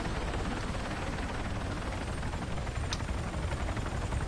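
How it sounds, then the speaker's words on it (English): A helicopter in the ARMA 3 military game drones close and loud with a steady, dense rotor thrum that holds unbroken throughout. "There's another chopper just took off."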